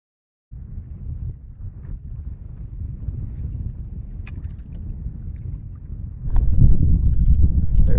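A boat's trolling motor running steadily as a low, continuous drone with wind buffeting, rising louder near the end, with no talk.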